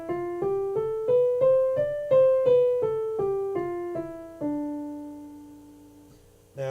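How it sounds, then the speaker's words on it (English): A Dorian mode scale picked out note by note on a pitched instrument, about a dozen evenly spaced notes climbing and then descending, ending on a long sustained note, clear and alone with no voices. "It's called the Dorian Mode, and it sounds like this."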